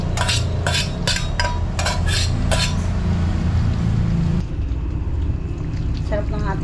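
Seafood laing with shrimp stirred in a pot, a run of rhythmic scraping clinks from a utensil against the pot in the first half, then quieter sizzling and faint movement.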